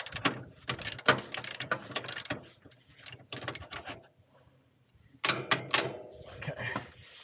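Deep well socket wrench ratcheting on a shock absorber bolt during front shock replacement, a series of close, quick clicking bursts with short pauses between, no talking.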